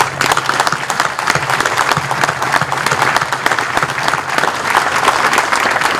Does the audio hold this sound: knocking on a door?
no